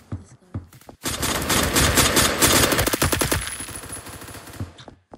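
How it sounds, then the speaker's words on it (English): Suppressed AK-12 rapid fire in the Roblox game Phantom Forces, a dense burst of muffled automatic shots lasting several seconds, preceded by a few isolated clicks and tailing off into scattered rounds. "I love the AK-12 with the silencer."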